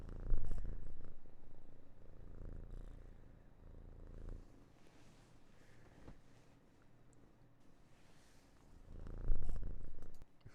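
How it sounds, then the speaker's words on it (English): A cat purrs loudly and continuously up close, a low rumble that swells strongly at the start and again near the end, with faint room noise and no speech. "She is a loud purr."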